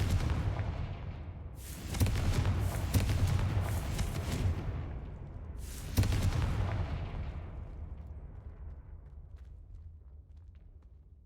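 Confringo fire spells blasting in Hogwarts Legacy, two loud booming bursts a few seconds apart, each with a sharp crack and a long rumbling decay, over a steady low game ambience.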